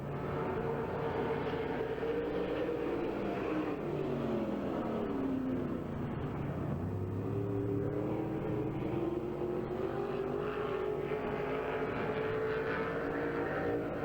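A sprint race car roars through a qualifying lap at Hagerstown Speedway in 1995, its engine note rising and falling steadily around the track, loud and continuous with distant surrounding noise.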